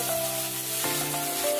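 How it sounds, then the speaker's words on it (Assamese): Sliced tomatoes with turmeric frying in a pan for a masala fish curry, a steady close sizzle throughout with a brief stirring scrape midway, no talk. "এতিয়া ধুনীয়াকৈ এতিয়া ভাজি ল'ম."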